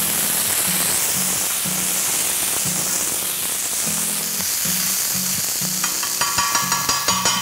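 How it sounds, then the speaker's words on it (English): Ginger and garlic paste fries in hot oil, giving a steady loud sizzle with soft stirring knocks beneath, and sharper spatter crackles building near the end. "Now let's quickly add a teaspoon of ginger paste and a teaspoon of garlic paste. Fry this for a few seconds."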